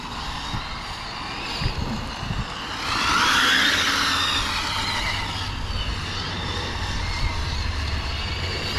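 A Hobao VTe2 BMW 8S EP2 electric RC drift car sliding: a whining motor surges to a peak a few seconds in and then settles over a steady background rumble, with no talking.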